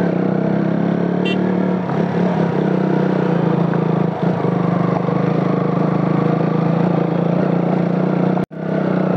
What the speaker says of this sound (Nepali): हौ बाइक कुदाउनु अप्ठ्यारो भए जस्तो भइरहेको छ नि मलाई ह्यान्डलहरू नचले यस्तो छ